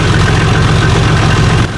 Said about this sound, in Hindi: उसके बाइक के इंजन का आवाज।